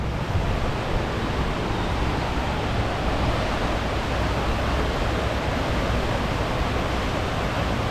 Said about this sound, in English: The river's running pretty strong with all this record snow melt.